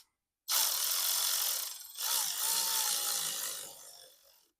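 A ratchet tightens a bolt on the alternator bracket of a Nissan Frontier, two long, loud buzzing runs of rapid pawl clicks up close, the second fading out gradually.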